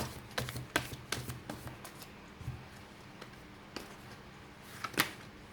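A tarot deck is shuffled close by in a quiet room, making quick papery riffles and soft slaps in bursts during the first two seconds, then a few isolated flicks.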